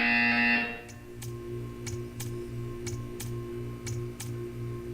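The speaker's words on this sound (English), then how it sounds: "You will hear a buzzer." A buzzer in the video game Portal 2 sounds loudly for about a second, followed by a steady electronic hum with evenly spaced soft ticks repeating roughly every half second.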